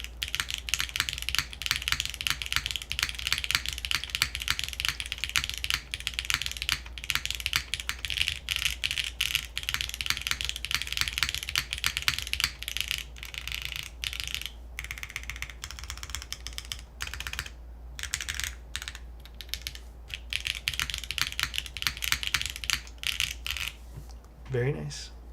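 Fingers type rapidly on production Manta mechanical keyboard keys, a dense, steady stream of crisp clicks close up for the whole stretch, with only brief pauses near the end.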